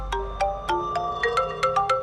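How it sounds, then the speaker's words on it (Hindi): A mobile phone ringtone for an incoming call plays as a bright, melodic run of short electronic notes repeating in a quick pattern. It is loud and close, with no voices over it. "ये सुमन मुझे क्यों फोन कर रही है?"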